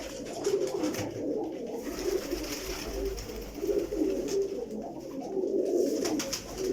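Lakha slate pigeons cooing nearby in low, repeated throaty rolls, several calls overlapping against a quiet background.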